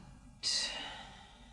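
A single soft exhale during a guided yoga breathing exercise, a breathy rush that starts abruptly and fades gradually, close and quiet.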